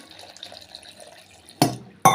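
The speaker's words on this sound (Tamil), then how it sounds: "இந்த செம்பில் வந்து ஒரு செம்பில் வந்து தண்ணி சேர்த்துக்கிறேன்" Water is poured from a small metal pot onto half a coconut and lemon for coconut milk juice, in two short, splashy bursts after near silence.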